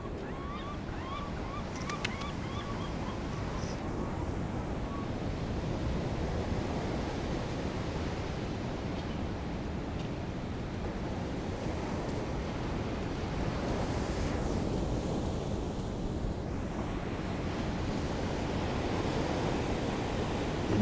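Morning ocean waves along the San Francisco coast roll in as a steady, full surf roar for about twenty seconds, with light wind noise and no talking.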